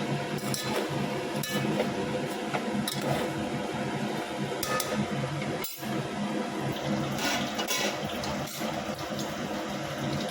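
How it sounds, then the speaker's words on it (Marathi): Water runs and splashes steadily into a cooking pot for chicken biryani, a continuous close pour with no voices. "आपण पाणी टाकूया"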